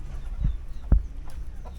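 Chickens in a backyard coop give a few low clucks, two soft calls near the middle, over steady rustling and faint background noise.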